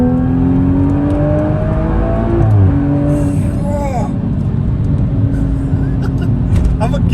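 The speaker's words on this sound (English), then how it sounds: "the way this motor sings out of the back." A BMW M135i hot hatch accelerates hard from inside the cabin, the engine note climbing steadily through the gears with a brief shift dip, loud and continuous as people talk over it.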